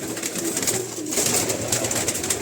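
Pigeons coo softly inside a loft, low murmuring calls blending under a steady hiss of ambient noise, close and continuous with no speech.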